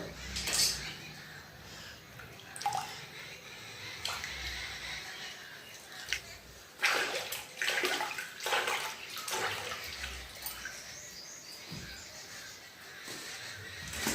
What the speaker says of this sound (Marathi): पाणी शिंपडते